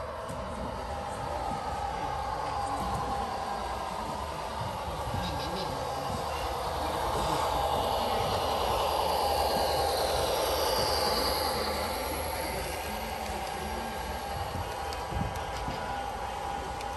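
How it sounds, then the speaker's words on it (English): A Rapido model Rio Grande Ski Train rumbles steadily along a track for a long stretch, a continuous mechanical whir and clatter with no voices. "we're gonna go run this train."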